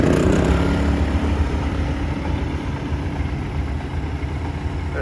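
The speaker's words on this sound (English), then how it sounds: "I got the mule running, it's idling, and the generator running" A Mule utility vehicle idles beside an inverter generator running in eco mode. A close, steady, even engine rumble fills the whole stretch without pause or talking.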